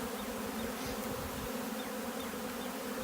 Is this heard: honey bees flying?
yes